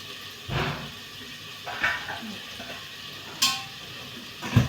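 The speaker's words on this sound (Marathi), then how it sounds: "कमी याच्यावर भाजी होत आहे आपली" Vegetable bhaji made from katval with onion, tomato and plenty of oil, cooking in a pan over a low gas flame, with a soft steady sizzle broken by a few clinks and scrapes of stirring. No talking.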